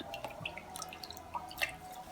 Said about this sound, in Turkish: Ardından fırçamı bir güzel ıslatacağım.